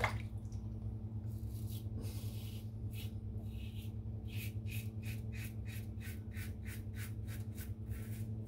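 Silvertip shaving brush working up a dense lather, heard close as repeated soft wet squishing strokes that grow into a quick steady rhythm over a low constant background hum.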